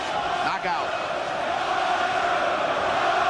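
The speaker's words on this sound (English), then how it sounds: "Listen to this crowd, the chanting, the singing." Boxing arena crowd at the Nigel Benn versus Gerald McClellan fight, a dense roar of chanting and singing that holds steady throughout, with a commentator's voice briefly audible over it.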